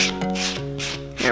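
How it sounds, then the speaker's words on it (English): A soft-grit nail buffer rubs across a fingernail surface during an at-home gel polish manicure, making a brief, close, continuous scratchy swishing with a few back-and-forth strokes. "You're just taking the shine off with this buffer."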